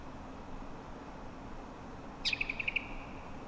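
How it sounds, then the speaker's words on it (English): A small bird in the Lord of the Rings Online game lets out a short, bright run of about half a dozen quick chirps over a faint ambient background. "look at this beautiful little bird here"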